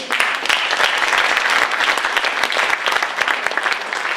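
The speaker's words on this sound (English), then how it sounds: "Give him a nice round of applause." An audience at an Iowa House District 51 candidates forum claps for a Republican candidate, a steady, full round of applause from many hands, fairly loud and continuous.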